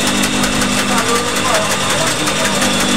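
A sewing machine stitches a half-inch seam on the sleeve of a doctor's lab coat, giving a steady, close whirring motor hum that runs without a break.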